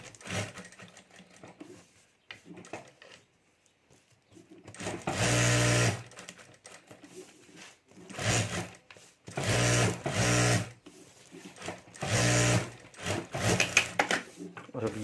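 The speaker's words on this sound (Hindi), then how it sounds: "तो यहाँ भी मैं ऊपर सिलाई कर देता हूँ।" An electric sewing machine stitching fabric and lining on a party-wear potli bag, running in several loud bursts with short pauses between them, close by.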